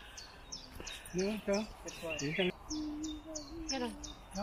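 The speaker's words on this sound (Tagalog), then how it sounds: "May mga honin ng ibon dito." Birds chirp in quick, high repeated notes, fairly faint, at Center Parcs in England, while a person talks quietly underneath.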